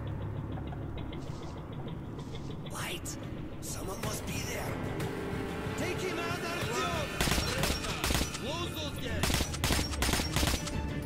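Scattered gunfire in the Metro 2033 Redux shooter during a rail cart ride, sharp shots ringing out over a low rumbling engine, growing denser and louder toward the end, with voices heard under the action.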